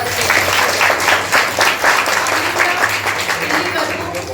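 A college festival audience claps warmly and continuously, loud dense applause filling the hall for several seconds with a faint voice underneath.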